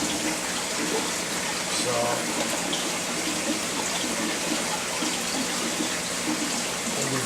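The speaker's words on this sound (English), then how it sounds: "now the only other thing we got to do, put the water back in." Water pouring back into a fish tank after cleaning with a Python water vac, a steady broadband rush running throughout, with a brief spoken word near the start.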